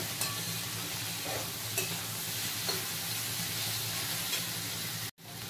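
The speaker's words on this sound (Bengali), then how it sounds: "কাঁকরোল ভাজা।" Slices of teasel gourd (kakrol) fry in a pan with a steady close sizzle and a few soft stirring scrapes. The sound cuts out briefly near the end.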